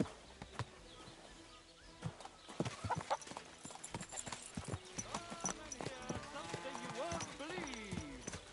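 Horse hooves clip-clop from a cheap old nag in the video game Kingdom Come Deliverance 2, a steady run of close hoofbeats mixed with voices and other game sounds.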